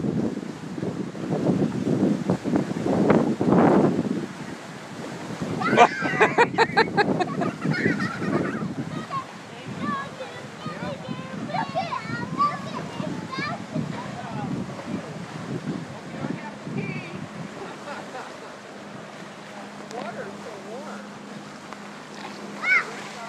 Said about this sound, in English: Here come some waves.